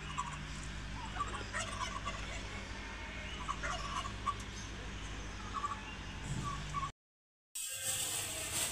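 Turkeys gobbling in a bird enclosure, a dense run of overlapping calls over a constant low rumble, moderately close, with a brief dropout near the end and no talk.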